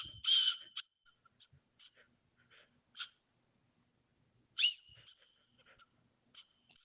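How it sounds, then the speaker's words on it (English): A shrill whistle built into a tactical shovel blown in a few short bursts, the strongest near the start and another midway, with faint breathy sounds and quiet gaps between. "And then it's got a whistle."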